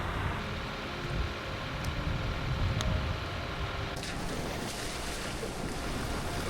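An overland vehicle pushes through unexpectedly deep water on the North Canol road, a steady loud churning wash and rumble with splashing bursts and wind buffeting throughout, no voices.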